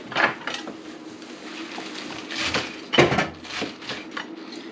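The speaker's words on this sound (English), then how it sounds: "These you're going to just chop up." A knife chops vegetable top leaves on a cutting board in a kitchen, irregular close knocks and scrapes, fairly loud, with no talking.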